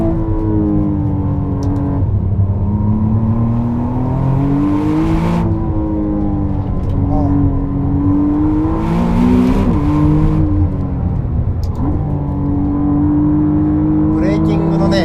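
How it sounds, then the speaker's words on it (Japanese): A 2025 McLaren Artura driven at a quicker pace on a winding road, with its suspension set to track mode. The engine drones steadily and close, its pitch rising and falling as the car accelerates and eases off, with occasional whooshes over the top. "サスペンションのね設定をトラックモードにして、ちょっとペースアップして走ってみます"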